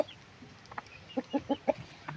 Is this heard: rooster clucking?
yes